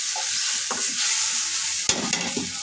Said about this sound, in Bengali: কাঁচা গন্ধটা দূর হওয়ার জন্য একটু ভেজে তো এখানে আমি একটু হালকা ঝোল দিয়ে দিব